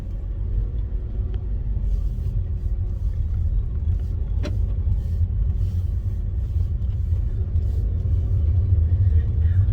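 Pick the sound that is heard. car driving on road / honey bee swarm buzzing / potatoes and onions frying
car driving on road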